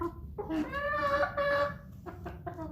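A close chicken gives a drawn-out clucking call, followed by a few shorter clucks, with no other voices.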